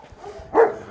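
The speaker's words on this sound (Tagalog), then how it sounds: "Oh, laki ng aso na yan." A big dog barks once, a single short loud woof standing out from quiet outdoor background noise on a muddy path near an animal shelter.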